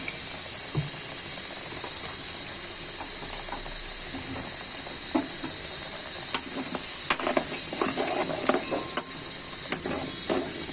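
Oil sizzles in a pan while rui fish cooks, a constant bright hiss with occasional small pops and crackles that grow more frequent toward the end, close up and without speech.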